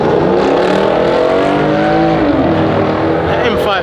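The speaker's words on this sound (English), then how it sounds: "That M550 sounds crazy." A BMW M550 revs hard at a big car meet, its engine loud and close with the pitch climbing and dipping across a few seconds, while voices murmur around it.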